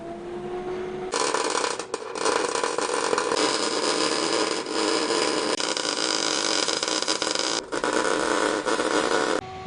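A welder lays beads on a custom 2-inch front hitch receiver being fabricated for a mini-truck, making a loud, steady, crackling hiss that starts after a second and runs nearly unbroken, with short breaks, to the end.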